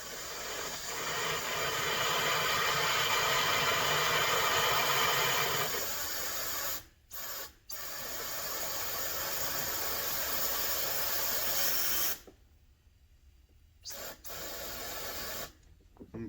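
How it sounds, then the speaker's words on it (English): Compressed air nozzle blowing through a Jeep WK sunroof drain, a loud steady rushing hiss that runs for several seconds, changes tone, breaks off in short gaps, then resumes in shorter bursts. "I can get the air nozzle right on it"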